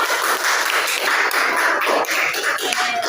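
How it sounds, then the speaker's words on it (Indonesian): A classroom of students claps for a classmate, quick and fairly close, with many hands hitting in a busy, even patter that lasts about three seconds and has no talking over it. "Tepuk tangannya buat Dera."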